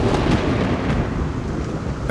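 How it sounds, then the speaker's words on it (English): A thunderstorm in the Sahara desert gives steady, loud rumbling thunder and heavy rain in a broad, continuous roar with no pauses. "At last, the storms arrive and bring with them the longed-for waters."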